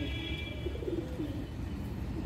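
Pigeons coo softly and steadily against a low, continuous background rumble, with no talking over them.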